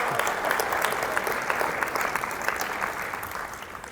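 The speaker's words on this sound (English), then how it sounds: "Give yourself a round of applause." An audience at a presentation applauds steadily, a dense wash of many hands clapping at fairly close range that holds even and sustained throughout.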